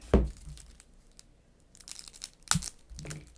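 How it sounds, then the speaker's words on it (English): New plastic wrap being cut and torn off a deck of Marvel Legendary game cards with a knife, heard as sharp crinkling and tearing bursts separated by quieter rustles, close to the listener. "Nothing like opening a brand new plastic off of brand new cards"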